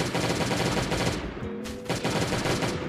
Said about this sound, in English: let's try to use our shotguns